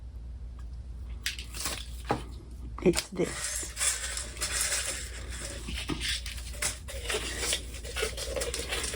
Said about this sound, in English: It's called Frit, F-R-I-T. It just means crushed glass